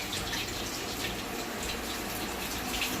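Tap water gushes steadily into a bathroom basin while a child washes face, a constant close splashing rush without any voices.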